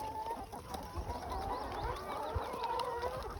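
Hens out on pasture on their first morning back outside, clucking softly and continuously at a moderate distance over a steady outdoor background hum.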